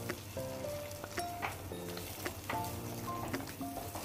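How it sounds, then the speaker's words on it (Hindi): Garlic, ginger and green chili paste fries in an already-cooked masala for a black chickpea gravy, giving a soft, steady sizzle with scattered crackles and clinks of stirring. "तो हमने 1/2 चम्मच लहसुन अदरक और हरी मिर्च का पेस्ट लिया है, इसे हम इसके अंदर डाल देंगे और इसे भी भून लेंगे"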